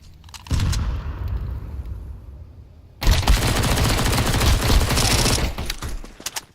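A grenade blast followed by dense, sustained gunfire in Counter-Strike 2: a sudden loud detonation at around three seconds, then continuous rapid shooting that rises over earlier scattered shots and dies away at the end.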